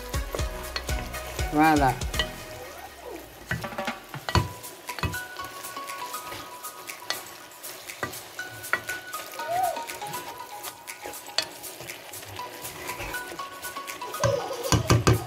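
Food sizzles in an uncovered pan while a spoon stirs and scrapes it, keeping up a steady crackling fry with clinks and knocks. A voice speaks briefly near the start.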